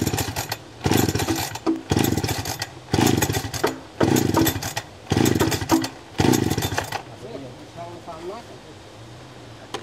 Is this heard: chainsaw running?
yes